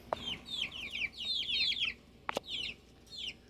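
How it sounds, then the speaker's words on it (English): Several chickens cluck and chatter in quick, bright bursts close by indoors, with a couple of sharp knocks mixed in. "Got some chickens down here."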